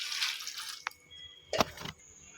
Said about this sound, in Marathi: तर आता डाळ तांदूळ धुवून घेऊयात